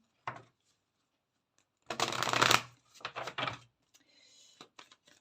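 Cards are shuffled for a card reading, with a short riffle and a longer burst of shuffling followed by several soft taps and slides of the deck, close and otherwise quiet.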